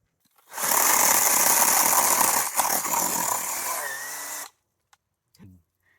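A chainsaw cutting into an olive tree runs loud and steady for about four seconds, its tone shifting partway through before it cuts off abruptly, followed by a few faint knocks.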